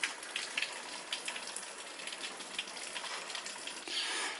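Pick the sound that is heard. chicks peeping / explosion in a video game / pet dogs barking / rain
rain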